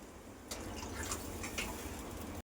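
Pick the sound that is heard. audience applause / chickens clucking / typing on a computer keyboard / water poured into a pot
water poured into a pot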